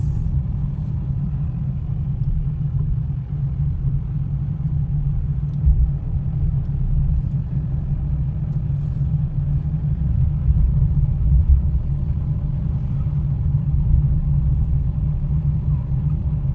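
A car drives slowly along an empty single-lane road, its steady low engine rumble and road noise continuing evenly throughout, close and fairly loud, with no talking.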